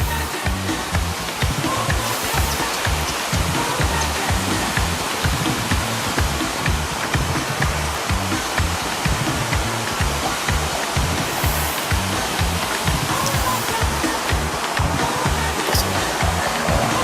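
Égalé river on Réunion rushing beneath a footbridge: a loud, constant roar of fast-flowing water, close and unbroken, with no voices over it.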